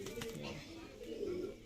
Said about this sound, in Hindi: ये मद्रासी कबूतर दिखा रहा हूँ आपको चूड़ी में से निकाल के